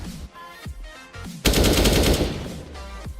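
Automatic gunfire in the video game CS:GO: a short burst of shots, then a long, loud rapid volley at close range.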